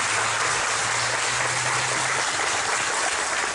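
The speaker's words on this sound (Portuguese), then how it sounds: "Eu peço uma salva de palmas para os nossos ministros." A congregation at a church retreat applauds its ministers, a continuous hissing wash of clapping, somewhat distant and even, with a faint low hum beneath.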